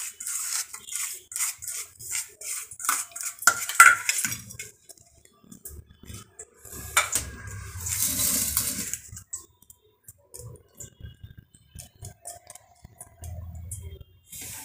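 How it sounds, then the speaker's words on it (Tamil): Small clinks and taps of utensils against a bowl while mixing salt and turmeric, scattered and irregular, with soft scraping between them; no voices. "இது உப்பும் மஞ்சளும் வந்து மிக்ஸ் பண்ணி"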